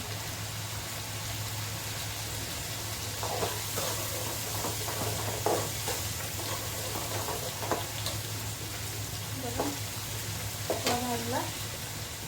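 Food frying in a pan on a cooking fire outdoors in cold weather, a steady low sizzle with occasional scraping stirs, while a voice speaks briefly near the end.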